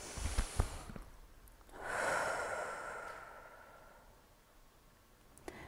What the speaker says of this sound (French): prendre une grande inspiration et souffler